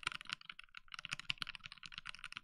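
Fast, steady typing on a QWERTY keyboard fitted with Clackeys Phyrexian keycaps, with dense crisp clacks close to the mic and no talk.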